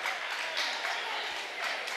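Westwood fans cheer and applaud at a high school girls' basketball game against Fontbonne, a steady, bright crowd roar of clapping and shouts with swells throughout.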